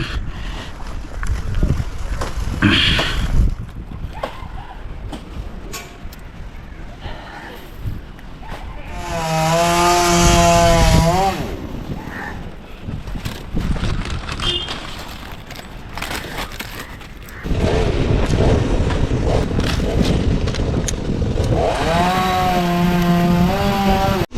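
A chainsaw slowly cuts a damaged branch high up in a tree in Kottayam, Changanassery, its engine droning loudly and rising to revving whines in two bursts, with voices talking over it.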